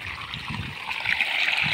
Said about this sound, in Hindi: जो पहले पानी चल रहा था वो भी आपके सामने है